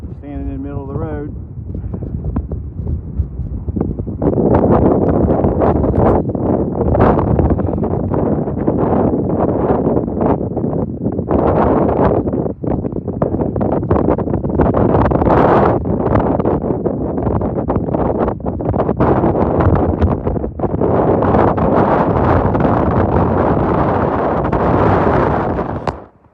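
Wind blowing on a hiking trail lined with rhododendrons, a loud, steady gusting roar buffeting the microphone throughout, with a brief voice at the very start.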